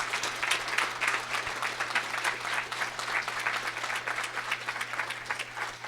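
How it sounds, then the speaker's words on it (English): An audience at a public talk gives a sustained round of applause, dense steady clapping from many hands filling the room. "I hope all of you will join me in giving Mark and Todd a round of applause"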